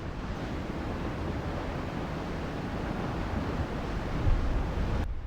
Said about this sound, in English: this roaring river of lava is running over what used to be a neighborhood